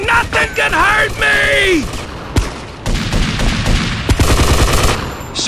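Gunfire in GTA Vice City Stories: loud bursts of rapid shots and single cracks mixed with game music and character shouting, with voices heard between the shots.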